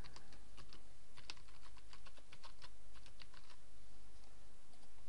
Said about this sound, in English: so I just type that in now.